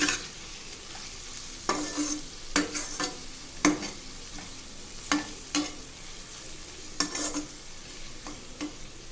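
Fish pieces being mixed with salt and masala for an Andhra-style fish fry, heard as a few separate wet stirring and squelching bursts with short gaps, close and fairly quiet, with no talking.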